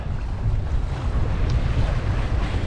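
Strong wind roars against the microphone with rushing waves beneath as a sailboat works to windward under full sail in a fresh breeze, a steady, loud, unbroken wash of noise.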